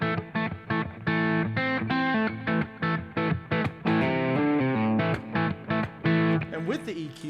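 Electric guitar run through a Wampler Bell overdrive pedal with its EQ switched off, giving a gritty tone; a string of choppy, distorted chords and single notes played close and fairly loud, with short gaps between phrases.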